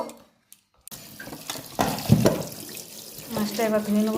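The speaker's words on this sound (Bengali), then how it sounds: "মাছটা এবার ধুয়ে নেব" Freshly cut fish rinsed under a running kitchen tap, a steady close splash of water building after a brief quiet start, with a faint tonal hum near the end.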